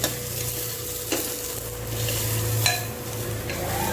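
Chopped cabbage and drumstick pieces fry in hot oil for sambar, giving a steady close sizzle with a few scraping stirs of a spoon against the pan.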